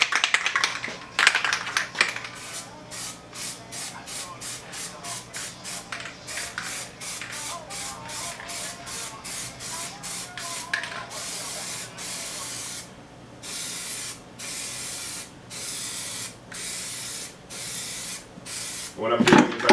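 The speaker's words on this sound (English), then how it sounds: "What I'm doing is I'm just kind of angling the spray so that it gets up in the corners by the pickups." A spray can sprays Koi Orange Plasti Dip onto a guitar body in a long series of short hissing bursts, fairly close, followed by a couple of longer sustained sprays.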